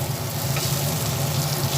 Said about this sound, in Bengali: আবার ভালোভাবে তেলের মধ্যে সব দিয়ে নাড়াচাড়া করে নিচ্ছি এগুলো একটু ভাজা ভাজা হবে